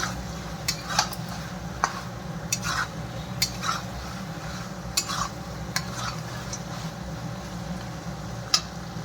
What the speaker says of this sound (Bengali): বড়িগুলো দিয়ে এর মধ্যে মিলিয়ে নিই।